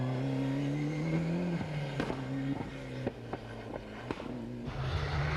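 Mark Lovell's Group A Toyota rally car runs through a stage of the 1995 Cork 20 International Rally, its engine note droning, then rising and falling with sharp pops and crackles between gear changes.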